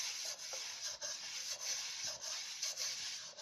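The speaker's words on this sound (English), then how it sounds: "I'm just allowing the stone to sharpen my blades" A sharpening stone rubs back and forth along a speed skate blade in quick, light, repeated strokes, a faint close scraping rasp with an even rhythm and no voices.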